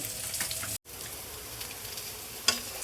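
Onions frying in hot oil for a rui fish bhuna give off a steady, close sizzle and crackle. The sound cuts out briefly near the start, and a single sharper clink comes later.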